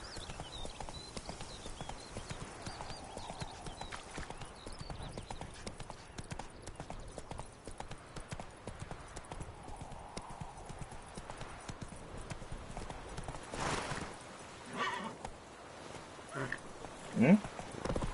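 Roach, the horse in the video game The Witcher 3, trots along with steady clip-clop hoofbeats and makes a brief whinny near the end, while a person talks quietly over the game sound.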